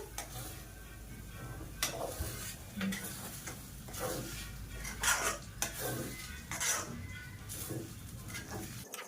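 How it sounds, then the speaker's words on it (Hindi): Dal halwa roasting in ghee in a pan gets stirred with a utensil, giving repeated scraping strokes and metallic taps over a soft continuous sizzle, close and without talking. "तो अभी से मैं भून लेती हूँ।"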